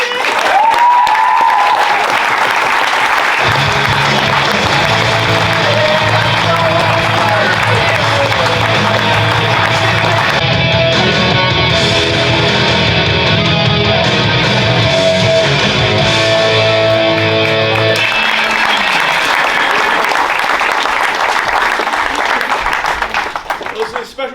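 A large crowd applauds and cheers loudly and continuously, with a voice booming over a PA amid the noise.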